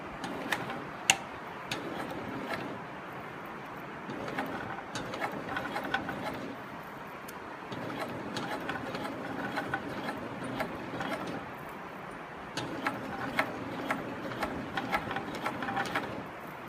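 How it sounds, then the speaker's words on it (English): A SewPro 18365 high post sewing machine stitching, a steady close mechanical whir with fine ticking that runs in stretches, pausing briefly between runs, alone without talk. "We're going to do it with the post machine."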